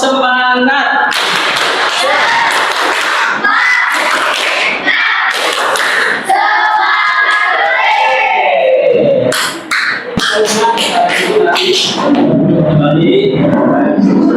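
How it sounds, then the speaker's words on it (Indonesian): A classroom group claps in rhythm as an enthusiasm cheer, loud and sustained with a strong steady beat across the whole stretch, some voices mixed in near the end. "Tepuk semangat."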